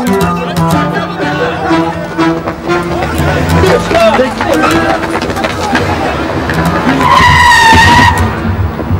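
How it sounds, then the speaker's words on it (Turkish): A car brakes hard and skids, tires squealing loudly near the end over a noisy street scene with people talking and crowd babble throughout. "Frene asıldım hemen ama duramadım."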